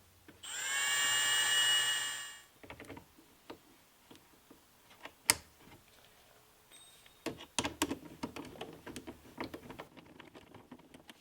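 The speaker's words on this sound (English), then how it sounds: "You're just drilling through this lip here" A power drill whines at high pitch for about two seconds drilling through a fender flare lip, then stops, followed by scattered clicks, taps and handling noises nearby.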